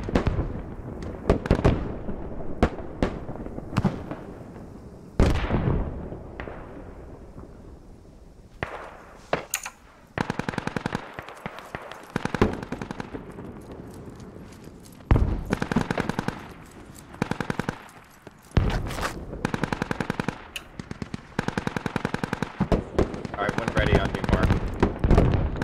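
Rocket artillery fires for effect in the video game Steel Rain, a dense run of rapid, loud launch blasts and cracking bursts with short gaps between volleys, while players talk over the barrage.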